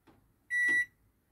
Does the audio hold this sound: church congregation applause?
no